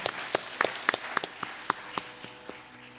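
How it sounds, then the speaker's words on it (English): At a Bharatanatyam arangetram, sparse applause for Kumari Richa Kadam comes as a handful of distinct, separated claps spaced across the moment, fairly close and modest in volume. "A big round of applause for Kumari Richa Kadam."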